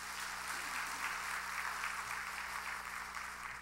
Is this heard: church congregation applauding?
yes